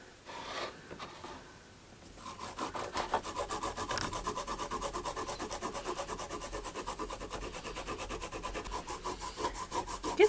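Fresh ginger grated against a grater on a plate, heard as a fast, rhythmic rasping scrape that runs steadily and close after a few tentative strokes at the start.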